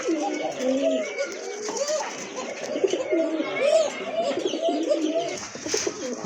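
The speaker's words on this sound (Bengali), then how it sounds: "এই যে দেখেন কবুতর হ্যাঁ নটটা কিন্তু অনেক ডাকে" Pigeons cooing at a market stall where a pair of large pigeons is on sale, soft repeated coos close by over a busy background with voices.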